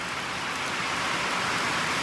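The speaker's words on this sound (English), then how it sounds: "it's raining so bad outside, we had to bring it inside just to finish the video. It is hammering down." Heavy rain hammering down outdoors, a steady dense hiss of drops on surfaces that holds evenly throughout with no other sounds.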